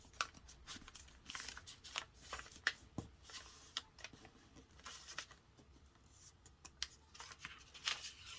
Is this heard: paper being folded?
yes